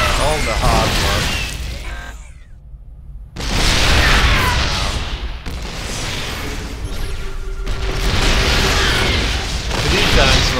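Siege tanks in StarCraft 2 shelling an enemy base, heavy booming blasts and mechanical clanks filling most of the stretch, broken by a brief near-silent gap, with voices under the game sounds.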